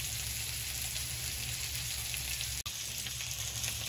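Tamarind frying in ration palm oil makes a steady, close, crackling sizzle throughout, broken by one brief dropout near the end, with no voices.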